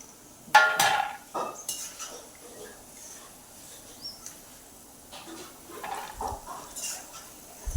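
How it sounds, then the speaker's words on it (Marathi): Roasted peanuts are scooped from a pan onto a plate with a spoon, giving scattered scraping and clinking hits close by and short rattling bursts separated by quiet gaps. "शेंगदाणे ताटामध्ये काढून घ्यायचे आहे आपल्याला"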